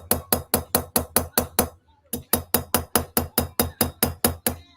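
Rapid, evenly spaced hammer strikes on silver wire being inlaid, about seven sharp metallic taps, a brief pause, then a longer steady run of blows, close and loud.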